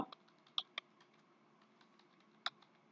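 Computer keyboard keys are tapped while entering Command Prompt into a search box: a quiet, irregular patter of clicks with a few sharper, louder strokes, close up and with no talking.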